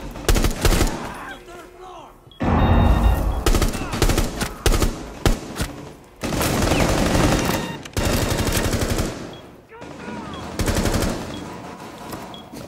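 Automatic weapons fire in a bomb-defusal shooter video game: loud, close bursts of rapid gunfire in repeated volleys with brief gaps, voices faintly mixed in.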